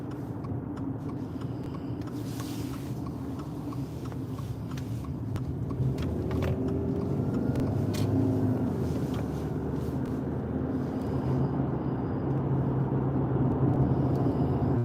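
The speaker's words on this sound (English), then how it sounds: "that white car needs to hurry it up" A white car drives by with a broad, steady road rumble that grows louder halfway through and stays heavy to the end, with no voices.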